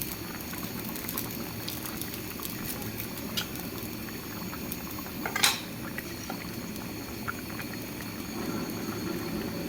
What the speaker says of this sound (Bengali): বলক এসে গেছে। আমি এখানে মাছগুলো অ্যাড করছি।